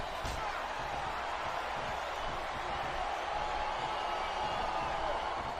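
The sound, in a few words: arena crowd cheering in WWE SmackDown vs Raw 2007 video game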